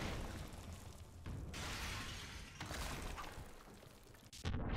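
Shattering and crashing as bookshelves and a vase are smashed in the video game Dangerous Golf, dense bursts of breaking debris that fill the clip in loud waves, with a short gap near the end.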